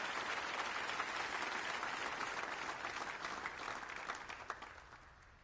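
Steady crowd applause in a snooker video game as a round begins, dense and even clapping that holds through and slowly tapers off near the end, with no talk.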